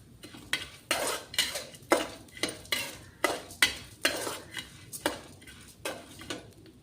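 Fenugreek and spices dry-roast in a pan, stirred with a metal spoon in about a dozen rhythmic scraping strokes, close and fairly loud with quiet gaps between them.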